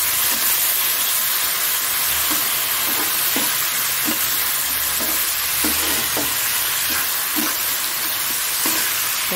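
Ginger, garlic and chili pastes loosened with a splash of water sauté in a pan for rajma ghugni. A loud, continuous sizzle runs throughout, broken by regular scraping stirs.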